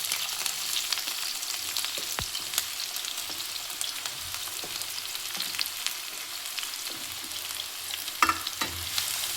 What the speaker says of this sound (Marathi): सर्वप्रथम आपण हिरवी मिरची टाकून घेऊ आणि त्यावर कांदा